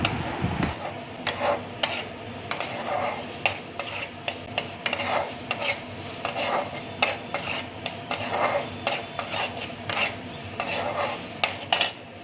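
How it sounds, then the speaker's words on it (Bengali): Spice paste for a Bengali tangra fish curry frying in a pan with splashes of water, a soft continuous sizzle under repeated scraping and tapping of a utensil against the pan, close and steady. "জল দিয়ে জল দিয়ে কষালে মশলাটা খুব ভালো কষানো হয়"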